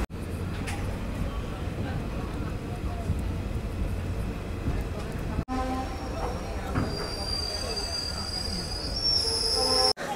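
Passenger train on the Agartala to Silchar line, heard from inside a carriage: a steady loud rumble of wheels on rails with rhythmic clatter and rising metallic squeal near the end, and a person talking faintly under it.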